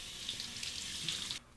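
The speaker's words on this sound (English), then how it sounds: "Take the synthetic brush and just soak it under the hot water." Hot water gushes steadily from a tap onto a synthetic shaving brush for over a second, a bright broadband hiss that cuts off abruptly near the end.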